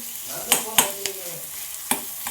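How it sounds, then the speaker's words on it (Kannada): Tomatoes frying in a pan over a low flame, a steady soft sizzle with several sharp stirring clinks and scrapes spaced through the short stretch, close by and moderately loud. "ಈಗ ಸಣ್ಣ ಉರಿಯೊಳಗನ ಇದನ್ನಿಷ್ಟು ಫ್ರೈ ಮಾಡ್ಕೋಬೇಕು ನಾನು"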